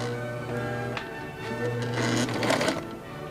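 A domestic sewing machine running on its longest stitch length, whirring in short bursts with a rapid mechanical chatter that rises and falls across a few seconds, close and clear with no talking.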